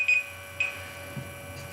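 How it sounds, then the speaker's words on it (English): A timer beeping in short electronic bleeps, one at the start and another about half a second later, over a faint steady background hum with no speech. "that was my timer again"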